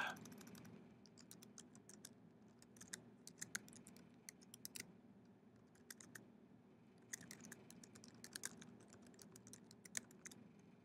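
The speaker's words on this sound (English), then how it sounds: "you click and you just type whatever you want to type" Steady typing on a computer keyboard, bursts of quick key clicks with short pauses, close and fairly quiet over a low room hum, no talking.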